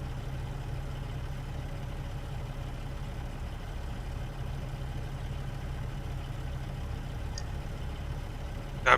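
A Caterpillar truck engine in American Truck Simulator, hauling a 53-foot reefer trailer, runs at a steady low idle-like rumble, constant and fairly quiet with no talk.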